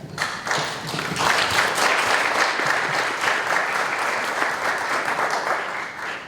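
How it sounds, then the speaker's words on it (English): Applause at a high school press conference swells quickly and holds as a dense, even patter of many hands for several seconds before tapering slightly at the end. "So I'd like to take a moment to give you guys a round of applause"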